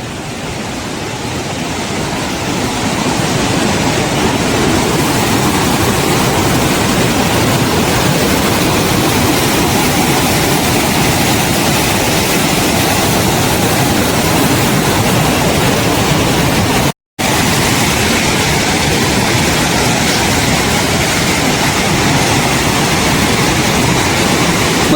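Water from the overflowing Shetrunji dam rushes in a loud, unbroken roar that holds steady with one brief dropout, rising slightly in the opening seconds. No voices are heard.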